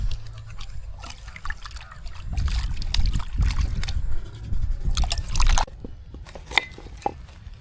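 Running water splashes and trickles as peeled tapioca is washed by hand, a close, steady stream with irregular sloshing bursts and a sudden drop in flow partway through.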